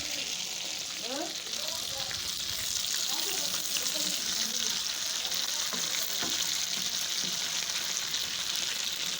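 Chard fries in a pan with garlic and coriander, giving a steady moderate sizzle throughout, with faint background voices and a few light kitchen clatters underneath.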